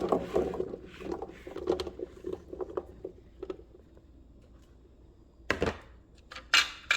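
Rosemary garlic potatoes tumbling onto a metal sheet pan, a patter of small knocks and scrapes, close and fairly quiet, ending with a few sharper clanks.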